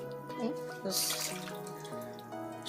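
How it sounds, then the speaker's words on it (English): Washed banana leaves being shaken over a kitchen sink, water dripping and splashing back into the basin in short bursts, close and moderately loud, with a voice talking over it. "shake off some of the water."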